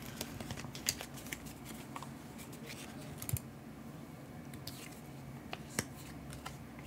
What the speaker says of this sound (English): And now we just shuffle up for the next round.